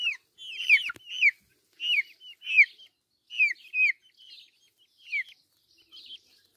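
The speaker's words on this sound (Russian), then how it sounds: "Вот такая красивая птица." Dark Brahma chickens, a rooster and a hen, give a string of soft clucks and short calls in quick bursts, near and fairly quiet against a silent background.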